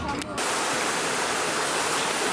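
Near a hotel at Lake Garda, a waterfall gives off a steady, loud, broadband rush of falling water that continues unbroken throughout.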